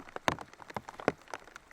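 Rain patters on a disc golf course during a tournament round, with scattered close drops hitting a surface in an irregular rhythm, faint and brief.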